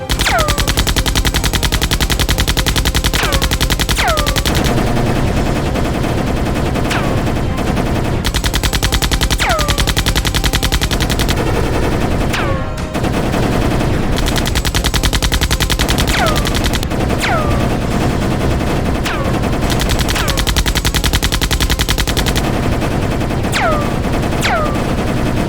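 Electronic gunfire effects from a Kenner Terminator 2 Bio-Flesh Regenerator toy from 1991, loud bursts of rapid rattling shots repeating in blocks with short pauses, steady and close throughout.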